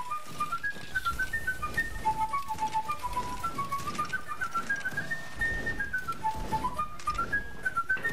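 Flute played in a Napoleonic-era regiment video game, a thin breathy melody of short, evenly rhythmic notes rising and falling, fairly faint against a soft background.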